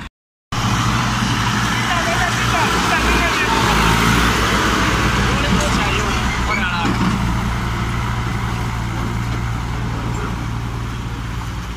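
A John Deere 5310 tractor pulls a loaded sugarcane trolley, its diesel engine droning loud and steady at close range, with a voice talking over the sustained rumble.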